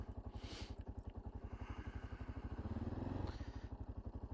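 An idling Honda XR650L-class motorcycle engine...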